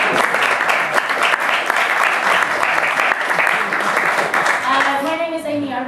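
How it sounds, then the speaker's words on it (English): Audience clapping at an evening literary reading event, a full room of applause sustained and fairly loud for several seconds before tapering off as it ends. "a round of applause please"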